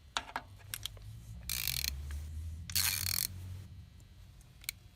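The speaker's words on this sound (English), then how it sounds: "take a hex screwdriver and tighten this lock" A hex screwdriver tightens the lock on a Prius hybrid inverter's three-prong high-voltage orange cable, giving a few close mechanical clicks and two bursts of louder ratcheting scraping in a quiet room.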